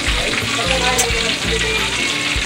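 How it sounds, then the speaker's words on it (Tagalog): Crispy pata, a Filipino pork knuckle, deep-frying in a pot of oil in a home kitchen, a loud steady bubbling sizzle with crackling pops throughout. "piniprito ko yung crispy pata"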